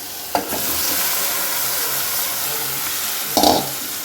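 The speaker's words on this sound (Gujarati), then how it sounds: "હવે આપણે વઘાર કરશું।" A Gujarati tempering of garlic and asafoetida hisses in hot oil, a steady sizzle with two sharp bursts of spattering as ingredients hit the pan, no voices.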